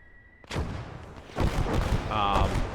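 Grenade and gunfire explosions in the World War II shooter game Gates of Hell: Ostfront, an abrupt sharp blast followed by a second booming burst with rumbling tail and a brief tonal effect.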